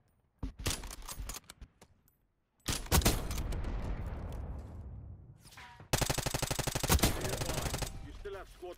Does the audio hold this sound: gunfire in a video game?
yes